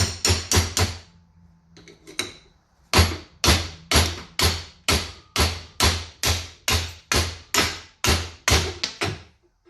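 Sharp metallic hammer blows ring out close by, knocking bushings out of a Jeep YJ track bar, a quick cluster first, then a long steady series of evenly spaced strikes.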